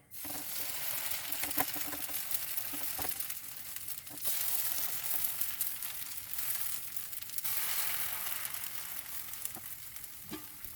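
Potato pancakes (deruny) sizzle in oil in a frying pan, a steady close crackling hiss with occasional stirring scrapes throughout.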